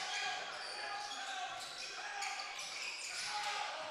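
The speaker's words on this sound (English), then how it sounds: "Ball bounced around." A basketball bounces repeatedly on a gym floor during a college men's game, with sharp thuds under continuous crowd noise and commentary.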